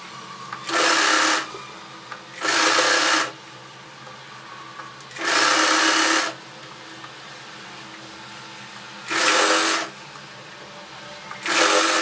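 Short, loud bursts of a sewing machine stitching plain fabric for a dress, five runs of about a second each separated by quiet pauses, close and clear over faint background hum.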